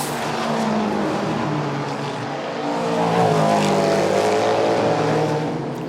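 Endurance race cars scream past at speed during the 6 Hours of Spa, engines roaring loud and sustained with a rising, swelling pass-by and no talk over them.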